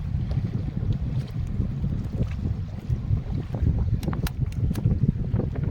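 Strong wind rumbles and buffets against the microphone over the Brahmaputra river while fishing nets are hauled, with intermittent splashes and knocks from a boat.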